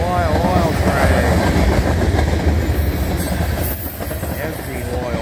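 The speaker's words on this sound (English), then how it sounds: "Oil train." A southbound crude oil freight train hauled by CN ES44DC, CSX ES40DC and CN SD70M-2 locomotives rolls past close by, a loud steady roar of wagons and wheels with clickety-clack and faint squeals throughout.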